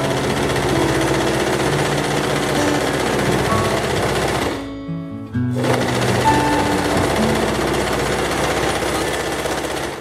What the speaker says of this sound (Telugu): ఈ ఎడ్జ్లో కూడా ఒక కుట్టు వేసేయండి